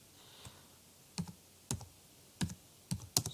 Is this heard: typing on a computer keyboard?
yes